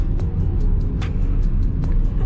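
A 2016 Toyota Etios Liva with a 79 bhp engine pulls hard while overtaking, its engine drone and road rumble loud and steady from inside the cabin, with faint periodic ticking sounds over the top.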